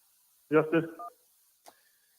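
A radio call-in show picks up a phone line: a short voiced burst is followed by a brief click, then a faint steady line tone trailing off in near silence.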